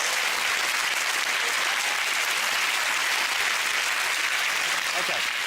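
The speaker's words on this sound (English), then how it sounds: "Your round of applause, Sean Wallace, everyone." A studio audience at a televised sports-themed comedy quiz show gives a loud, dense burst of applause. The clapping holds steady throughout.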